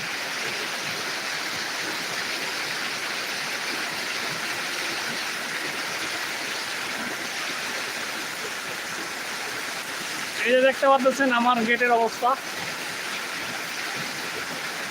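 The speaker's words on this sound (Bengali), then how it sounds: "দিনাজপুর সদরে এই মুহূর্তে মুসলধারে বৃষ্টি শুরু হয়েছে" Heavy torrential rain pouring in Dinajpur Sadar, a dense, steady roar of water that runs unbroken throughout, with a person briefly speaking over it near the end.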